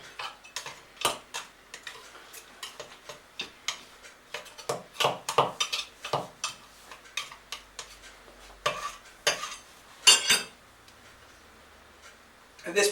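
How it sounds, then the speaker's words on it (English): A spoon stirs green Thai curry in a pan, making repeated sharp clinks and scrapes against the metal in an uneven rhythm, close and fairly loud, with brief pauses between bursts. "Give it a bit of a stir around."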